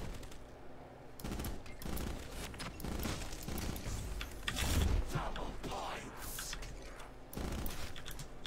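Rapid bursts of rifle fire in a shooter video game, dense and loud, repeating in clusters over a steady backdrop of game noise and mechanical clatter.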